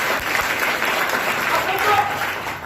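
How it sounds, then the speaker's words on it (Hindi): Sustained, loud applause from a large seated audience at a business plan presentation, dense steady clapping throughout with no gaps. "हम चाहेंगे आप अपने लिए एक बार जोरदार ताली लगाएं"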